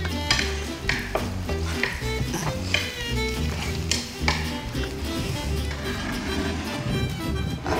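Garlic sizzling and frying in a hot pan, stirred with a utensil that scrapes and clinks against the metal, with steady crackle throughout and dense sizzle close by.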